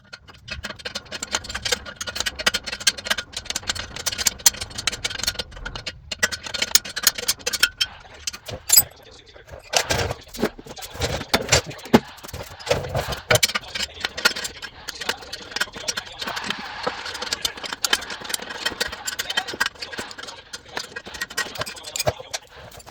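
A bandsaw cutting through a Porsche 944 exhaust pipe, a continuous gritty buzzing and rasping grind that carries on for the whole stretch at moderate loudness, with no one talking.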